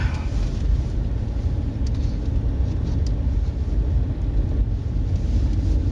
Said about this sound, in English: it's fun for me to wake up my truck, make him feel alive.